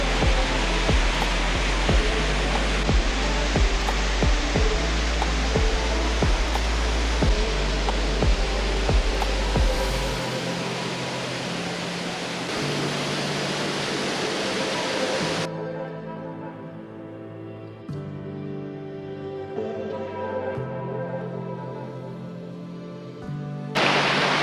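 Waterfall in North Cornwall, a steady broadband rushing roar close by with low thumps early on, then a quieter, thinner wash of falling water for the second half.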